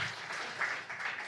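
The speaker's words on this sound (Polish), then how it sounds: "wielkie brawa, Alicja." Audience applause at a Polish county community event, steady dense clapping from a crowd throughout, moderately loud with a few swells and no talk over it.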